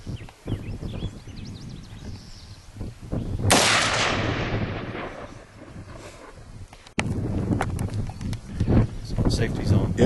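Firearm shots aimed at a target outdoors from an AR-15, Glock .380 or S&W .40, two sharp loud reports with echoing tails, heard amid people talking.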